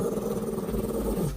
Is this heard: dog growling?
yes